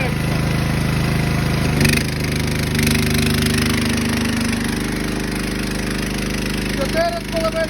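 A Matari power generator running under a load test at its third setting, a loud steady engine drone with a brief surge around the middle and a faint change near the end, with no voices.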